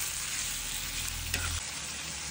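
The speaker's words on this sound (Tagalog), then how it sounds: "Lagyan na natin yung hipon guys. Halo-haloin natin guys." Shrimp go into hot oil in a pan and are stirred, making a loud, steady close sizzle with a brief scrape of the utensil partway through.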